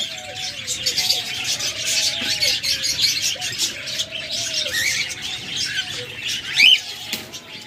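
Pet cockatiels kept for sale at a bird seller's, chirping and squawking in a busy, continuous chorus of shrill calls with occasional louder cries, quite near, plus cooing pigeons or doves low underneath.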